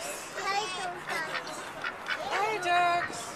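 Ducks quacking nearby at an animal-feeding spot, several short nasal quacks in bursts, mixed with children's and adults' voices talking over them.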